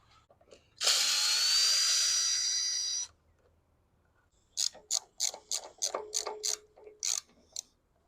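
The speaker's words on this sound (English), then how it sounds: "All right, let's pull this carburetor off." Carburetor removal on a 1984 Honda Aero 125 scooter: a cordless power tool whirs for about two seconds, then a series of quick ratcheting clicks and metallic taps follow close by.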